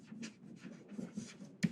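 Pen scratching across paper on a table, with quiet continuous strokes and short bursts and a sharper tap near the end.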